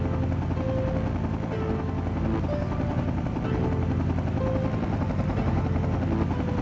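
Helicopter flying in GTA 5, a loud continuous rotor drone with a steady low thrum and faint tonal whine, heard alone without speech.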